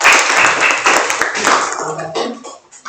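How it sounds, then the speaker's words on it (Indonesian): A classroom group claps for Group A after a lesson activity, a burst of scattered hand claps that is loud at first and then thins out over a few seconds. "buat tepuk tangan buat kelompok A"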